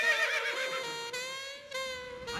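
A horse whinnies in a drawn-out, wavering call on a beach, fairly close and clear, with no talk over it.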